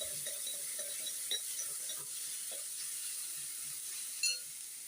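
Ingredients for mor kuzhambu sauté in a pan with a steady, close sizzle and soft intermittent stirring scrapes, a faint clink near the end, and no voices.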